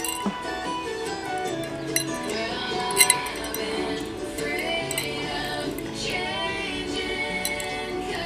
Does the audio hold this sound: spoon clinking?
yes